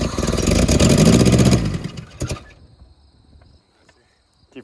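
A Honda engine revved hard at full throttle, a loud strained roar that peaks early, then drops off and dies away into near silence with faint crickets.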